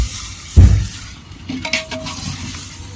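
Chicken is mixed with yogurt, garam masala and biryani masala in a metal vessel: one loud thud, then scattered clinks and wet stirring scrapes close by.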